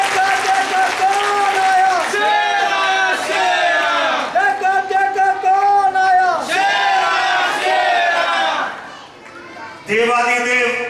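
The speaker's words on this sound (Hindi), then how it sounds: "जोरदार तालियां" A crowd at a Hindu religious gathering cheers and applauds the guru, a loud sustained roar of voices and clapping that swells and fades over several seconds, with a short dip before a fresh burst.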